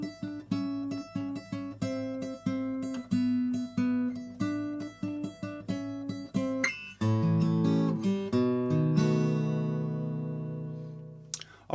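Guitar playing an intro, a solo acoustic blues line of plucked notes and strummed chords in a loose shuffle rhythm, ending on a ringing chord, clear and close.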